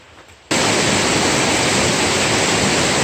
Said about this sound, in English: this really long slide waterfall.